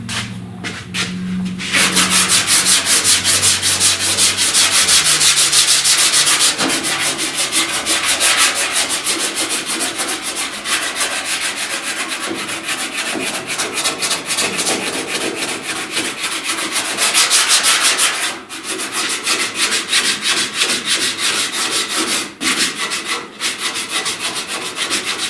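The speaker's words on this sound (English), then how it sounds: "I'm going to go ahead and 80 grit this" Car body filler on a truck cab corner dent repair being sanded by hand with 80 grit sandpaper, a continuous close, loud scratchy rubbing in steady back-and-forth strokes with brief pauses.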